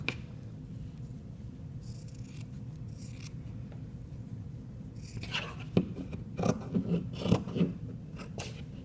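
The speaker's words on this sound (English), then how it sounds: "You're going to cut off the hem. Okay, you're going to cut this off." Scissors cut the hem off a cotton T-shirt, with a run of close, crisp snips and crunching cuts in the second half after a quiet stretch. No talking is heard.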